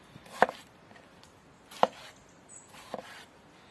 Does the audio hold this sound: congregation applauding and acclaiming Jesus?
no